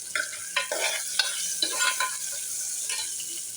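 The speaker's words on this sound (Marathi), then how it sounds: "आता हा टोमॅटो जरा परतून घेऊया." Tomatoes being sautéed in a pan for black-eyed pea usal, with repeated close scraping strokes of a spoon stirring through a steady sizzle, heard alone.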